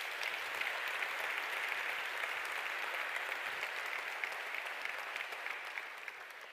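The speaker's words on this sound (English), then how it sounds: "Can I please get a big applause?" Sustained audience applause at the opening of an innovation summit, a dense, steady wash of many hands clapping that holds evenly throughout and eases slightly at the end.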